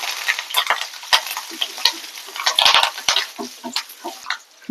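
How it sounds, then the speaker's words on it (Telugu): A tempering of mustard seeds, cumin, a dried red chilli, coriander and curry leaves fries in hot oil, crackling and sizzling steadily with sharp pops and occasional scraping stirs, close and fairly loud with no talk. "తాలింపు బాగా వేగింది కదా"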